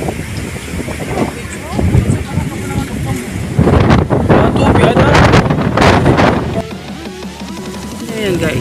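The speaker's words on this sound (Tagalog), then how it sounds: "Tapos ang lakas ng hangin." Strong wind gusting across a cold, foggy mountaintop, buffeting the microphone with rough, uneven rumbling bursts that swell in the middle, while voices talk over it.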